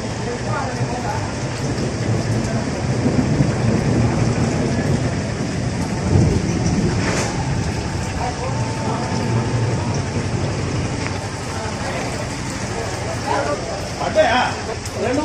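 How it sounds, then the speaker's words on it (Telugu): Heavy rain pours down steadily over a town's main roads, with a dense, constant roar and a low rumble of thunder swelling midway, loud and close throughout. "వర్షం లేక తీవ్ర ఎండలతో ఉక్కపోతకు గురైన పట్టణ ప్రజలకు భారీ వర్షం కురవడంతో వాతావరణం"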